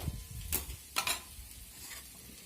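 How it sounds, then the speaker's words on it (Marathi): Garlic, green chili and peanuts being sautéed in a pan give a soft, low sizzle with a few quiet stirring scrapes, faint and brief with no voices. "हे चांगलं परतून घ्यायचं त्याला मध्ये लसूण मिरची आणि शेंगदाणे हे कच्चं नाही राहिलं पाहिजे"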